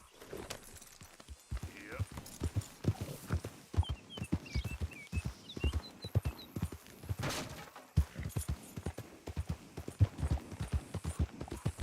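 Horse hooves clip-clop in a steady walking rhythm in Red Dead Redemption 2, close and moderately loud, with someone talking over them throughout.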